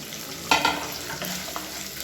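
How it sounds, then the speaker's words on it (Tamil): Chillies, garlic, shallots and curry leaves sautéing in a pan for chutney: a constant quiet sizzle broken by a few sharp spoon-stirring clatters near the start and middle. "இதோட ஒரு 4 பல் பூண்டு சேர்த்துக்கலாம். அதோட குட்டி குட்டியாக ஒரு 20 சின்ன வெங்காயம் எடுத்திருக்கேன். அதையும் சேர்த்து இப்போ இது எல்லாத்தையுமே நல்லா வதக்கிக்கலாம்."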